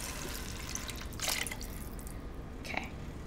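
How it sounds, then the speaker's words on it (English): Water from a sauce jar poured into a pot of pasta sauce for a one-pot pasta, faint trickling and dripping with a couple of brighter splashes, close but quiet. "you're gonna add water."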